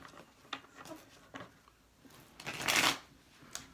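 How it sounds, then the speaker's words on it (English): Tarot cards being shuffled up close, a few soft riffles and taps building to one louder, longer riffle near the end. "Keep shaking the table every time I shuffle"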